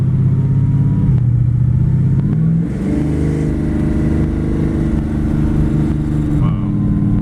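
A 1955 Chevy 210 resto-mod with a 427 engine cruises down a road, its loud, steady V8 rumble and drone holding close throughout, with a brief shift in pitch partway through.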